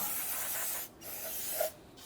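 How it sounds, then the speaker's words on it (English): Spray solvent hisses from an aerosol can to clean leaked brake fluid during a brake hose replacement on a 2005-2021 Nissan Frontier; two steady bursts come close up, broken by a short pause. "use a spray solvent of some sort to clean up the residual brake fluid that had leaked out"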